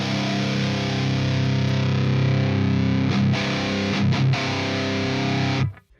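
An electric guitar plays through the Amped Dual amp simulator with the virtual cabinet mic pulled to the side, giving heavy, distorted, sustained chords with a few brief choppy accents before the sound stops near the end.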